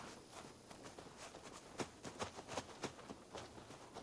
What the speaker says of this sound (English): Why are your footsteps so loud?